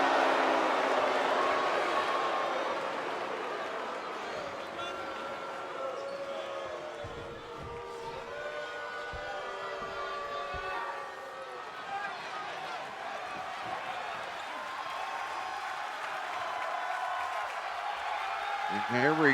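A crowd cheering in an arena at an independent wrestling event, a steady roar of many voices with scattered thumps, and a commentator's voice speaking over it throughout.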